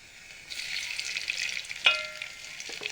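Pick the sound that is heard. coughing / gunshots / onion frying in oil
onion frying in oil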